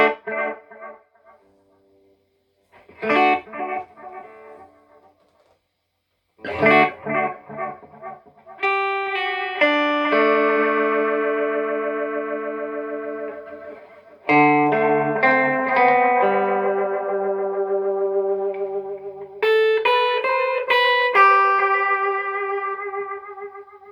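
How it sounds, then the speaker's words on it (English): Guitar played through a pedalboard, with a rotary effect swirling only on the delay repeats; picked notes and sustained chords ring out with echoing tails, loud and alone with no talking. "There's a rotary effect which I use quite a lot in this, so you'll hear that on the repeats only."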